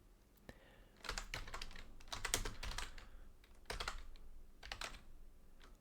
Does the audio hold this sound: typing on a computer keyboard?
yes